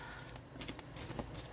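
Tarot cards shuffled hand over hand, giving soft, quiet riffling swishes and light card slaps in a loose, irregular rhythm close by.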